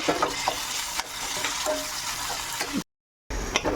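Tomatoes and onions frying in a pan get stirred, a dense continuous sizzle with scraping strokes, cut by a brief silence before the frying returns.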